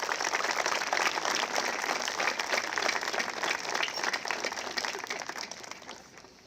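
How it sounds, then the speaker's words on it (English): A graduation crowd at Enfield High School applauds, giving dense, sustained clapping from many hands that stays loud at first and then slowly thins out toward the end. "please give a round of applause to those who are supporting you today"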